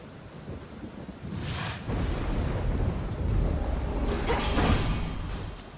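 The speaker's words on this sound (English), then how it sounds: "The rains return." Thunder rolls and rumbles over steady heavy rain in a stormy scene from the Hades 2 video game, swelling louder in waves with no voices.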